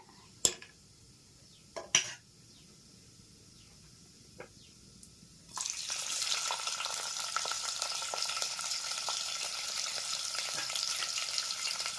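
Mustard seeds and onion frying in a pan for a drumstick and tomato curry: a few sharp clinks first, then a steady loud sizzle and crackle that fills the rest without any talk.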